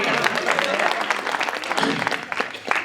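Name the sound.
audience applause at a poetry gathering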